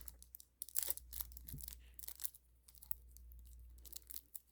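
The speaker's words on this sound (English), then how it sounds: "So I'm just going to open it. I'm going to use the scissor here" Scissors snip and tear through the plastic wrap on a Gilded Tarot Royal mini deck, giving a run of close, crisp crinkling and cutting bursts with short pauses between them and no talking.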